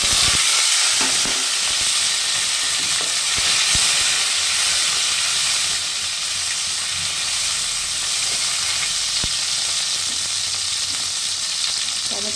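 Tomato dropped into hot oil with white cumin seeds sizzles loudly and steadily in a pan for a potato and pointed gourd curry, a dense bright hiss with occasional spatters and no talk.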